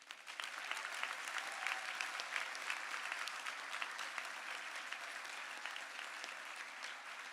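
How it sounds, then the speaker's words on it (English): Sustained applause from an audience honoring nursing graduates at an Emory University degree recognition ceremony, a steady moderately distant clapping that holds evenly for the full length with no talk over it. "please join me in giving one round of applause to these graduates"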